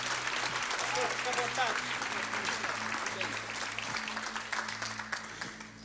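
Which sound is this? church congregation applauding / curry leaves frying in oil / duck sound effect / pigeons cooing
church congregation applauding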